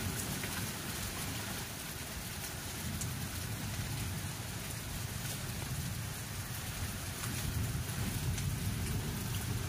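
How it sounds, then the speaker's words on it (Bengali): Rain falls steadily outside a window in the season's first shower. It makes a dense, even patter with faint low rumbles and no speech. "অনেকদিন পর বৃষ্টি হচ্ছে"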